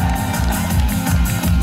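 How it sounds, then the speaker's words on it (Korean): A concert audience at an outdoor televised music show in Ulsan claps and cheers through an encore. The applause is dense, steady and loud, with whoops over it and no break. "박수 한번 주세요."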